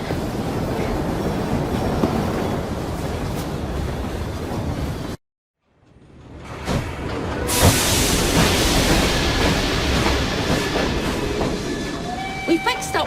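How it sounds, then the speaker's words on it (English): A train rumbles and hisses steadily in an Assassin's Creed Syndicate cutscene set in Victorian London, cuts to silence for a moment, then returns with rolling clatter and faint high squeals. "We fixed up the train for you."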